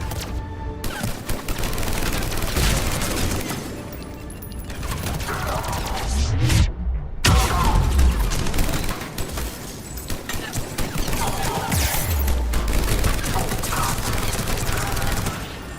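Heavy, near-continuous automatic gunfire, booms and mechanical weapon clatter run through a Mass Effect 3 battle on Omega, with brief gaps. Someone talks intermittently over the shooting.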